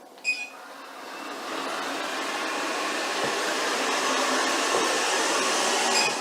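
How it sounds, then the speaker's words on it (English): A robot vacuum and mop combo cleaning a hardwood floor starts with a short beep and then runs as a steady, even whirring hum that builds slightly and holds close by with no talking. "Okay, so I got this vacuum cleaner and I just wanted to show off its capabilities"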